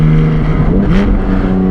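Porsche 718 GTS 4.0 engine pulls loudly near its high redline, with a quick gear shift midway before the revs climb again, close and steady with no talk.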